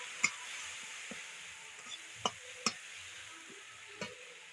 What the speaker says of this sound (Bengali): এর মধ্যে আমি হলুদ গুঁড়ো দিয়ে নিচ্ছি। আর দিয়ে নেড়ে ছেড়ে নিলাম।